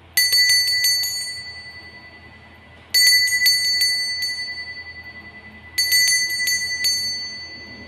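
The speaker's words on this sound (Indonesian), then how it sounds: "Kita memulai dengan ditandai lonceng berbunyi." Three rounds of bright, ringing bell strikes, each a quick cluster of chimes that rings out and decays, loud and close with no talk, marking the start of a Chinese zodiac goat fortune reading.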